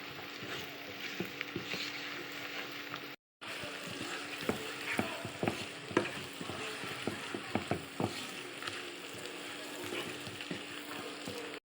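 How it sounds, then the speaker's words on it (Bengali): Onions and green chilies fry with whole spices (bay leaf, cardamom, cinnamon) in a pan: a steady close sizzle broken by frequent sharp clicks of stirring, with one brief cut to silence partway through. "পেঁয়াজ লাল করে ভেজে নিতে হবে"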